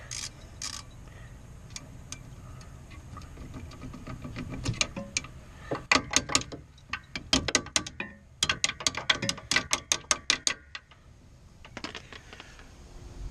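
A socket wrench works on a stuck rear brake bolt on a Chevy Impala, making bursts of fast, close ratcheting clicks. Short pauses break up the bursts, and no one speaks.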